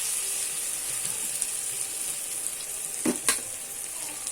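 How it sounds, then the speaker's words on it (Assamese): Pork sizzles steadily in its own rendered fat with ginger and garlic, a constant bright crackle broken by a couple of scraping stirs of the pan; no voices. "এইখিনি অলপ সময় মূৰে মূৰে মই ভাজি ল'ম।"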